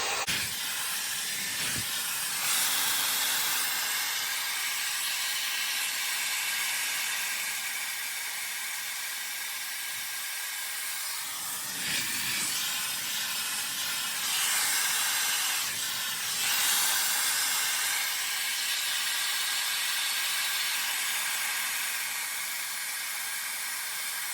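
A Shark Flex hair dryer blows continuously during a hair blowout, a loud, close, airy rushing hiss that swells and dips as it is moved around the head, with no talking.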